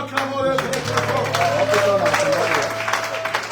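A church congregation at a memorial vigil applauding, steady clapping and cheering throughout, with a sustained tone and voices mixed in.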